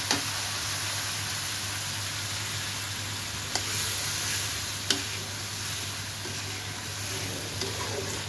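Tomatoes sizzle steadily in hot oil in a pan, a continuous close frying hiss broken by a few sharp knocks of a stirring utensil, with no talking.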